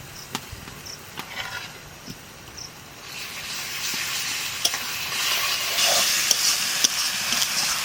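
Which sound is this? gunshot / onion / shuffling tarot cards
onion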